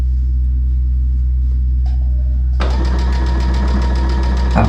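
A sewing machine starts up partway through and runs fast and steady at full speed, a dense rapid mechanical whir over a constant low hum, close and loud, while rug-making fabric is stitched.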